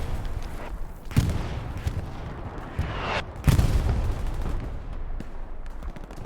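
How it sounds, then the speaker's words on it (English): Artillery shells land in a Hell Let Loose competitive match, with heavy booms near 1.2 s and 3.5 s over a steady rumble of distant gunfire. "there we go, one hit again from the DC artillery there"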